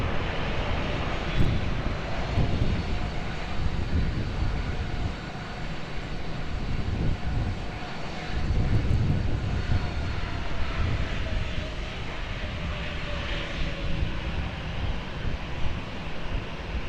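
An airplane engine roars at the Lisbon Airport runway as a steady, moderately distant drone with some wind noise that rises and falls slightly over the whole stretch.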